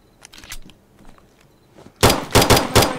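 Burst of gunshots from the shooter video game Zero Hour, four loud close reports in quick succession after a quiet lead-in, with no talk.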